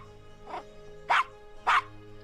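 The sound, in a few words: dog barking in Gabriel Knight video game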